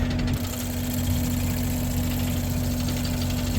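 A tractor pulling a large corn planter idles with a steady, low rumbling hum and a constant droning tone, running alone without any voices.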